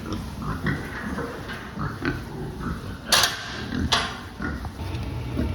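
A pig grunts and snuffles close by in short repeated bursts, with a couple of sharp metallic clanks in the middle.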